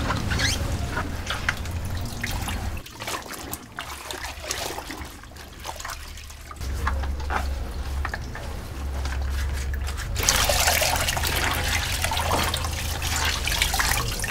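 Water drains and trickles steadily from freshly dyed hides, a continuous wet splashing and dribbling that swells louder toward the end.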